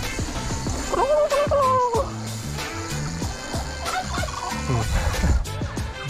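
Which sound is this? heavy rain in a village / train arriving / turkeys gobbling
turkeys gobbling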